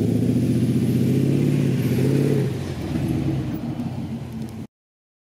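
A Duramax diesel pickup truck drives around a parking lot, its engine rumbling loudly and revving up before easing off to a lower drone, then cutting out abruptly.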